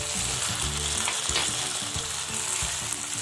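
Chili paneer sizzling in a pan on a low flame with chili sauce added, a constant busy frying crackle with some stirring and no speech.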